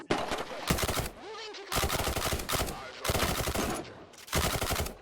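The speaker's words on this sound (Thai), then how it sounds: "บรรจุศูนย์ยิงคุ้มกันด้วยเพื่อน ยิงกดดัน" Bursts of suppressing gunfire in the Thunder Tier One tactical shooter video game: four loud, rapid automatic volleys separated by short pauses, with faint voice chatter in the gaps.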